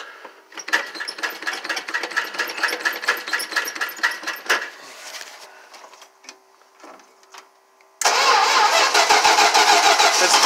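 A cold custom tandem van with its choke not set cranks repeatedly in a fast rhythmic churn, pauses with a few sputters, then catches and settles into a loud, steady running roar.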